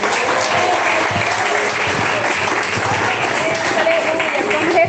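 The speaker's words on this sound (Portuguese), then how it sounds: "E as palmas para Jesus, amém?" Steady church congregation applause, with many hands clapping in a dense, continuous wash that holds for the whole stretch, close and fairly loud, with murmured voices mixed in.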